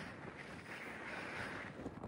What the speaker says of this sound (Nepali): हावा आइरहेको छ बत्ताइरहेको छ हावाले